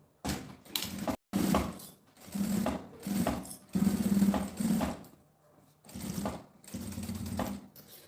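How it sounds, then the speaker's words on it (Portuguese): A sewing machine stitches bias binding around the edge of a small school case, running in several separate bursts of steady, rapid stitching with short pauses between them. "agora é só aquela costura na beiradinha desse viés em toda a volta"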